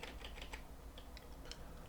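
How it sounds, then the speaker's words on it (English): Keys on a computer keyboard are tapped during G-code editing, a quick irregular run of soft, close clicks with no one talking. "I'm using the delete key on my keyboard"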